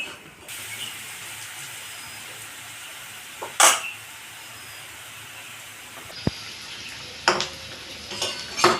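Onions frying in a pan ahead of a goat meat curry give a faint, steady sizzling hiss, broken by a few sharp clinks and knocks of utensils.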